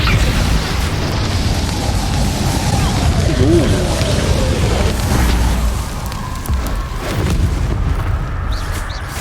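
Rapid Confringo blasting spells explode during combat in Hogwarts Legacy on PS5, a dense run of booming, crackling bursts rumbling over continuous battle noise and shouted spell names, loud and close throughout.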